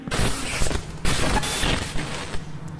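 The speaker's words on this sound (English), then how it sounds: "This is what the EMP tower will sound like when a missile is disrupted." Loud, dense electronic crackling and booming bursts in quick succession, a harsh distorted effect of an EMP tower disrupting a missile in the game Voltz, with repeated surges.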